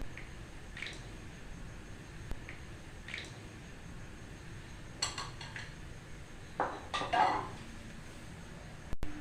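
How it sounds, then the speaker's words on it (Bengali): Jaggery being stirred into milk in a bowl with a spoon, giving faint scattered clinks and soft wet scraping over a quiet background. "নিয়ে গুড়টা একটু মিশিয়ে নেব"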